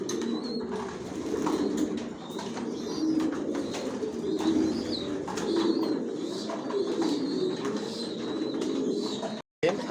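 Janssen racing pigeons cooing in their loft, a dense, continuous chorus of soft throaty coos from a flock nearby, with scattered chirps and a short break near the end.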